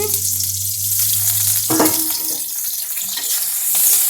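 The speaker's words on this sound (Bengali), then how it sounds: "এখন তেলে পেঁয়াজ দিয়ে নিচ্ছি" Onions sizzle steadily in hot oil in a home kitchen, a continuous bright frying hiss with a brief clatter of stirring partway through.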